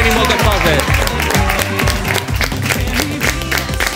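Studio audience applauding on a Spanish-language TV variety show, with music playing throughout; dense clapping sits under the loud music for the whole stretch.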